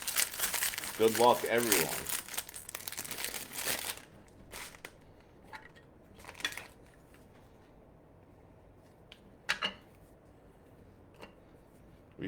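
Foil wrappers of 2022 Bowman Chrome baseball card packs crinkle and tear close by in a dense burst at the start, followed by sparser rustles and someone speaking briefly.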